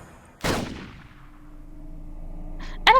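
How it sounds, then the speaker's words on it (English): A single sharp gunshot sound effect from a visual novel game, loud and close, with a long ringing decay, followed by a brief clanging blip at the end. "A gunshot ran out from Tatano's gun, but it was a wild shot"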